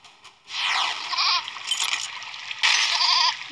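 A goat in the video game There is no game bleats in loud, close, wavering cries, two bursts with a brief gap, after a faint click.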